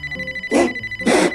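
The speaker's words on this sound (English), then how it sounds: "I gotta answer this phone" A telephone rings in a call center, two loud electronic ring bursts separated by a short pause, over a faint tonal hum with no talk.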